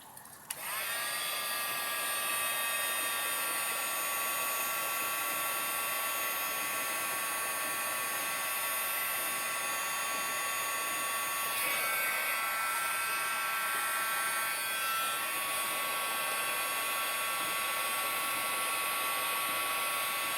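Heat gun blowing steadily to melt embossing powder, a continuous high-pitched whine and airy hiss holding at a constant level throughout, close and loud with no talk.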